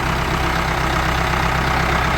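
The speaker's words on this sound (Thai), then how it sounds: "ฟังเสียงเครื่องกันนะครับ" A Ford 5000 diesel farm tractor engine idles steadily nearby, a loud, even rumble with a rapid low chugging throb and no voices.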